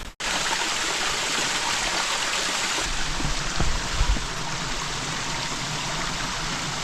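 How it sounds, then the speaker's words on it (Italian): The Ossena mountain torrent near Aviano rushes continuously close to the microphone, a loud, dense and unbroken roar of flowing water with a few faint knocks partway through. "Questo è il torrente Ossena"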